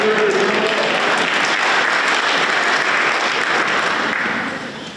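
Audience applause fills a school gathering for an elementary school Grandparent's Day, a steady, dense wash of many hands clapping that holds for several seconds before easing off at the end.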